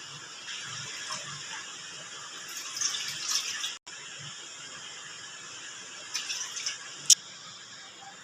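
Water and sugar poured into a bowl to make jalebi syrup: a faint, steady hiss of pouring runs throughout, with brief clinks and a sharp tap near the end. No talking.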